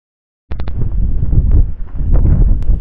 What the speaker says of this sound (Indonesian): Angin sangat kencang nih.